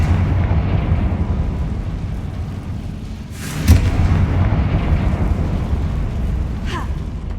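A Confringo fire spell blast in the video game Hogwarts Legacy, a single booming burst landing midway through a dense bed of game ambience and music, followed later by a fainter crackle.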